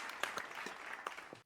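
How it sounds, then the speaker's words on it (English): A short burst of hand clapping plays faintly as a sound effect, a quick patter of several claps over about a second before cutting off. "The full clapping sound effect."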